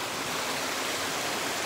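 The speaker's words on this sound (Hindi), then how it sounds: "तो ये है छोटा सा बाण गंगा वाटरफॉल" The small Ban Ganga waterfall at Vaishnodevi gives off a steady, close rush of flowing water, an even broadband hiss with no pauses or voices.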